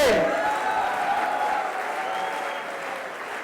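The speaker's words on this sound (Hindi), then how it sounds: "दोस्तों, तालियों में कमी नहीं आनी चाहिए।" Steady, full applause rises from the audience at a company's 15-year anniversary celebration, strongest at the start and then thinning slightly, with a sustained tonal sound running through the clapping.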